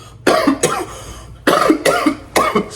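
A man coughs in three or four close, harsh bursts, each in quick pairs, loud and near with no talk over them.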